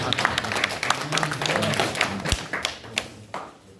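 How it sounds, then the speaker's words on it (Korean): An audience at a seminary lecture hall claps together, a dense run of close hand claps with a few louder individual smacks, steady throughout. "박수로 시작합니다"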